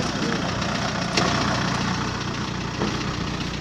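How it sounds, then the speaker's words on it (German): Idling engine of a pump truck at a flood site hums in a steady low drone with a faint knocking texture, continuous and fairly close, with no talk. "Überall die Pumpenwagen"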